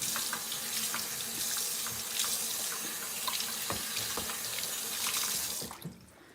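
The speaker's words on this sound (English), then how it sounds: "I'm going to rinse the onion juice off" Running tap water splashing over hands in a kitchen sink as onion juice is rinsed off, a steady close gurgling stream with small clatters, ending as the faucet shuts off.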